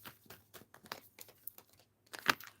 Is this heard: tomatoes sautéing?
no